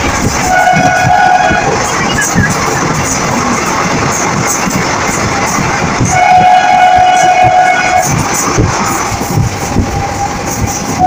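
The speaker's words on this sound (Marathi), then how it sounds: "आता आमची ट्रेन चालू झाली आहे" A passenger train travelling from Kolhapur toward Kalaburagi rumbles steadily and loudly throughout, with two sustained horn blasts rising over the noise, one early and one longer one near the middle.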